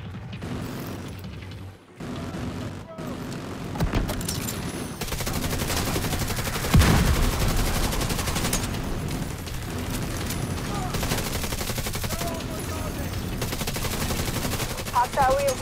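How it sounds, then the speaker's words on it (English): An autocannon fires in The Division 2 video game, with dense, rapid bursts of heavy gunfire and booms running continuously amid battle noise and mechanical clatter, loud and close. "The autocannon seems to be firing blind."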